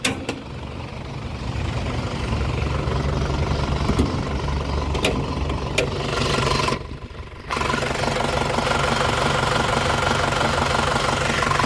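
A 2000 Isuzu Panther New Royale engine runs at idle close by, with a steady mechanical drone and knocking rattle, a few sharp clicks, and a brief dip in the noise midway before it resumes.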